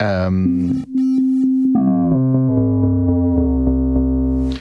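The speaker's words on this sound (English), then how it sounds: "now you can hear both VCO running" Two VCOs drone together on the Solderbox AUv3 semi-modular software synth, a loud, steady buzzy tone whose pitch glides and steps downward while a higher held note persists, with brief dropouts early on.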